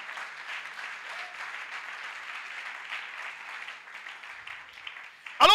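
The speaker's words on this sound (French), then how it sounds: "Est-ce que tu peux acclamer le Seigneur pour toi-même?" A congregation at an Easter seminar applauds and acclaims the Lord, a sustained wash of many hands clapping at moderate, even volume, ending in a sudden loud close burst.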